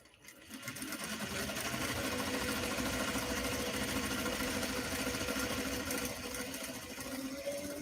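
A sewing machine runs at a steady fast stitching pace, starting up within the first second and then holding a continuous mechanical whir close to the microphone with no talking.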